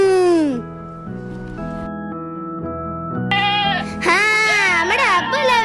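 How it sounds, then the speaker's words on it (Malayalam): Several goat bleats from a stage celebration, wavering and fairly loud and close, rising again near the end, with other voices around them. "പാത്തുമാന്റെ ആട് പിന്നെയും വന്നോ?"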